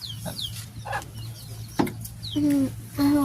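Backyard chickens cluck and squawk in short, repeated calls, a few sharper and louder near the end, over a steady low background hum.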